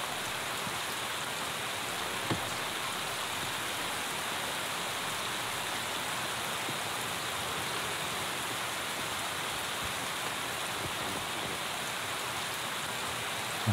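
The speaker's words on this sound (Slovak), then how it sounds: "Takže ešte vyššie začalo pršať." Steady rain falls in a video game, a constant hiss of drops on surfaces, even and unbroken throughout with no voices.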